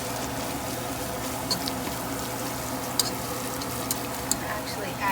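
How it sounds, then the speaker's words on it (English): Flour and broth gravy whisked in a pan, a steady close sizzle and stirring swirl with a few sharp clicks of the whisk against the pan. "Just start whisking it all around."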